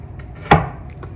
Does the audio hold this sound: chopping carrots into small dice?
yes